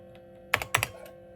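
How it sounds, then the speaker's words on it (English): A few quick keystrokes clack on a vintage Toshiba laptop keyboard, two close bursts of typing against a faint background hum in a quiet room. "get myself adjusted here so I can actually use the keyboard"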